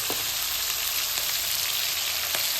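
Prawns frying in a pan with turmeric and salt, a steady close sizzle with a few soft stirring clicks.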